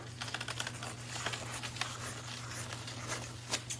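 Scissors snip down the middle of a two-ply paper napkin as a junk journal is made, a close, soft run of quick crisp cuts over a low steady hum, with no talking.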